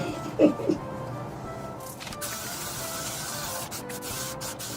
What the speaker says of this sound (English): I'm going to seal the glitter in place with some hairspray.